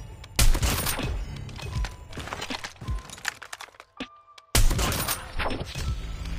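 Video game gunfire crackles in dense bursts of sharp shots, loud and close, with a brief lull before another volley erupts.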